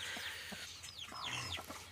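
A black hen clucks in short, soft bursts amid background bird chirps and farmyard noise, the clucks irregular and close by.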